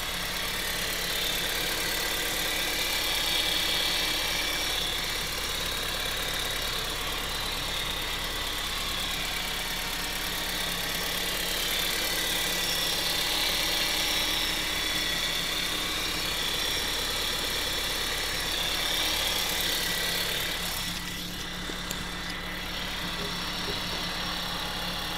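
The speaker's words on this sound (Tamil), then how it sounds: "வண்டியோட இன்ஜின் நாய்ஸ் நான் உங்களுக்கு மைக்கை பக்கத்தில் வச்சு எப்படி இருக்குன்றதையும் காட்டுறேன்." A 2001 Honda City engine idles with the mic held close, a steady smooth hum with a low rumble that holds even for the whole stretch and shifts briefly near the end. There is no talking.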